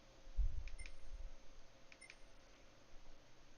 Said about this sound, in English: Sound like some kind of PlayStation notification